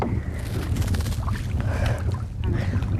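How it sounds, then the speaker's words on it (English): A canoe moves forward on open water during a paddling lesson, with low rumbling wind and water wash at close range and faint splashing; voices are heard faintly in the background. "take the paddle and paddle forward"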